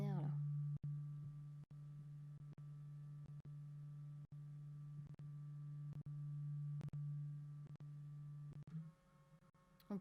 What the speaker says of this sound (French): Oh, si vous entendez le scanner là.